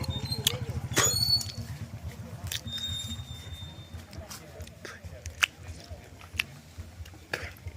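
People eating fresh rambutan at an orchard fruit buffet, with soft biting and chewing sounds, occasional sharp clicks and crunches under quiet murmuring talk and background noise.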